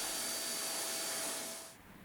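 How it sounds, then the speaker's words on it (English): A steady close whooshing vacuum cleaner drone runs as it sucks up sanding dust from a kayak bottom, then winds down and fades as it switches off. "After sanding, I vacuum off the dust"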